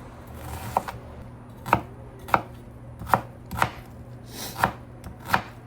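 An onion chopped with a knife on a board, about eight crisp, close strikes in a loose, uneven rhythm over a quiet background, with no talking.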